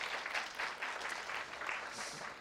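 Audience applause at a summer youth camp concert fills the space with steady, dense clapping that carries evenly through the whole stretch, moderately loud and without talk over it.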